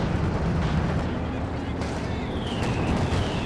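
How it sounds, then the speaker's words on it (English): Artillery shelling pounds a Soviet T-34 tank in Company of Heroes 2: a dense, rumbling wall of explosions and blasts over battlefield noise, continuous and heavy, under a commentator's speech. "the artillery nearly taking down the T-34"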